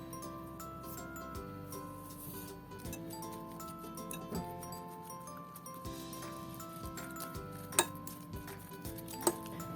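Boiled potatoes mashed in a pan, quiet repeated scraping and clinking of a utensil against metal in an uneven rhythm, close by, with a couple of sharper clinks toward the end.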